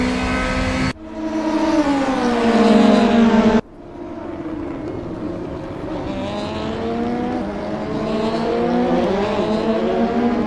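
DTM race car in the 2020 series running at speed with DRS open, a loud sustained engine note with rising and falling pitch, cut briefly near the start, then steady and close throughout.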